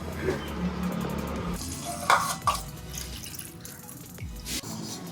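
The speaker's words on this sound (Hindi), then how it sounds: "अब इसमें दूध डालेंगे" Milk pours into a cooking pot in a home kitchen, a splashing, dripping pour with clinks of the vessel, heard alone at moderate closeness amid faint background sizzle.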